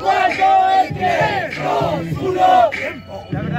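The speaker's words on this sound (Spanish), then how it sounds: "Vamos a gritar, loco, no nos cuesta nada." A crowd at a Spanish-language freestyle rap battle tournament shouts and cheers in loud, continuous chanting waves with rising and falling voices throughout.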